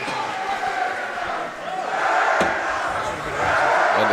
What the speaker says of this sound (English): their crowd is really getting into it now